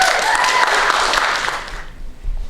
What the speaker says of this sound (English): Everyone give a big round of applause for River.